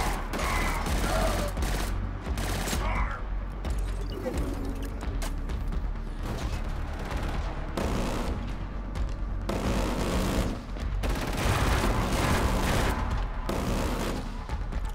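Gunfire in the Killzone Shadow Fall video game: continuous, dense volleys of shots and booms throughout, with a voice talking over the battle.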